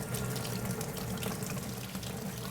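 Warm tap water runs steadily over a carbon fiber egg, a soft continuous splashing stream, fairly quiet and unbroken.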